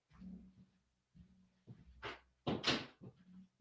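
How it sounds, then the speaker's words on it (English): A door closes in a small echoey room, heard as a couple of close wooden knocks and a firm latching thump amid handling noises and brief shuffles. "Had to close the door"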